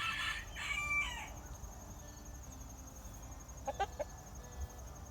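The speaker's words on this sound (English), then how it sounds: "Look how pretty these Coronation Sussex are." Coronation Sussex chickens, large white birds, make a few faint clucks and calls in a quiet yard, with a short burst near the start and another near the end over a soft insect-like background hum.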